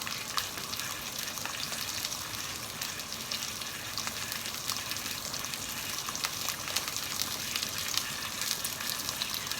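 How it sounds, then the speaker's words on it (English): Food browning in a frying pan gives a steady, dense hiss and crackle of sizzling fat, constant and fairly close, with no talking over it. "So I'll just finish browning these and then I'll come back to you when I get to the next stage."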